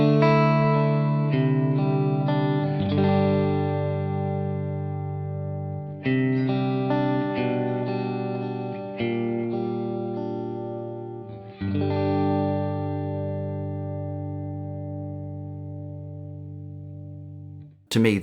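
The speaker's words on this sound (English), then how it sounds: "that's about the best clean sound that I think I've ever heard out of an amplifier" A clean electric guitar played through a Two Rock Bloomfield Drive tube amplifier rings out in sustained chords and single notes, warm and full with a gentle reverb tail, played alone without any voices.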